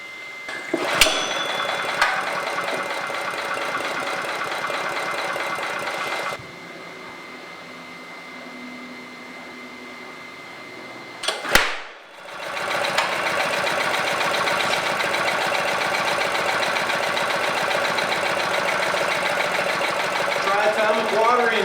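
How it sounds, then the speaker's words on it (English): A water-powered hydrogen engine runs steadily with a loud mechanical drone, drops briefly to a quieter hum, then pops sharply once in a backfire and roars back up to a sustained rumble. "Triatomic water engine. My baby. It's running."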